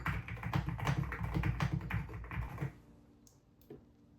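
Quick, rapid key taps on an Akko MU02 wooden keyboard clatter close and clear for under three seconds, then stop, leaving near silence with a couple of faint clicks.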